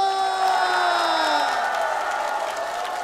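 A crowd at a Korean singing class show cheers and applauds as a guest teacher is welcomed, a loud sustained wash of whoops and clapping with a tonal musical or vocal line running through it.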